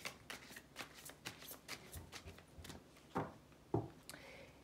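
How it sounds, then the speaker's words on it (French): A deck of tarot cards being shuffled by hand: quiet, close riffling and flicking bursts in an uneven rhythm, with two slightly louder snaps near the end. "on va tirer les cartes"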